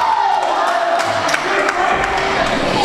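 Wrestling arena crowd cheering and shouting, a loud continuous roar with rising yells throughout, the audience urging the wrestler to repeat a headbutt.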